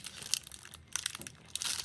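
Plastic wrapping on a Magic: The Gathering Secret Lair card package crinkles and tears close up in a short, busy burst of crackling, with no speech.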